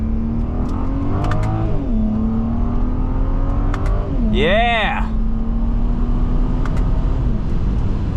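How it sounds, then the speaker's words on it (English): A BMW 135i with the N54 turbo engine accelerates hard inside the car, a steady loud engine drone with rising and falling turbo whistle and a sharp whoosh midway, while a person shouts briefly. "You hear those turbo noises?"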